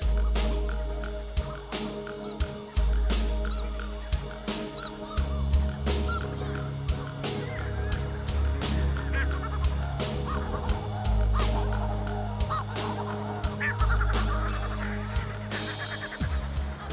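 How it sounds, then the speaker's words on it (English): Hutton's shearwaters calling through the night at their breeding colony in the seaward Kaikoura Mountains, with many overlapping honking, gobbling cries over a steady low rumble, continuous and fairly loud throughout. "here in the seaward Kaikoura Mountains live the Hutton shearwaters."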